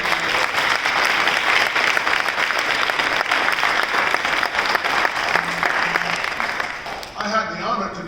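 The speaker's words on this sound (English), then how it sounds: "let's have a round of applause for the brother from Kentucky, Colonel Noah Parrish" Sustained applause from a chapel congregation at an Air Force base tribute to the Tuskegee Airmen, steady dense clapping for several seconds before thinning out near the end, with a voice briefly audible as it fades.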